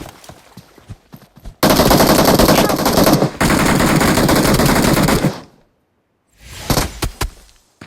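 Automatic gunfire in the mobile battle royale game BGMI, with loud sustained bursts of rapid shots separated by short pauses, ending in a shorter final burst after a moment of silence.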